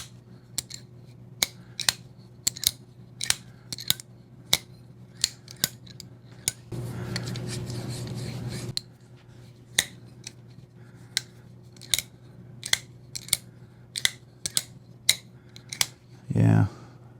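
A Microtech LUDT out-the-front knife with gritty bearings firing open and shut repeatedly, sharp close clicks in an uneven series, with a stretch of rough scraping action in the middle and a brief muffled voice near the end.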